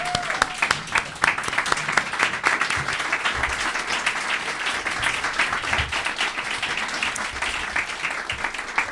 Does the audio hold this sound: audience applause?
yes